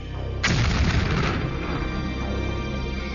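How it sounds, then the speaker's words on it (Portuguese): Test firing of the atomic cannon at Frenchman Flats, Nevada, in 1953: a single loud boom bursts out near the start, followed by a long rolling rumble that fades slowly. "Em 25 de março de 1953, em Frenchman Flats, Nevada, o canhão atômico foi testado pela primeira vez."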